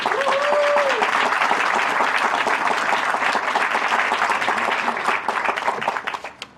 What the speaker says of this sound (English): to get that applause